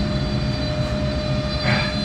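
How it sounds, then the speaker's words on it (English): CNC machine and dust collector running together in a workshop, a steady broadband whir and hum with tonal whines held continuously throughout, loud and constant. "You can hear the CNC and the dust collector running in the background."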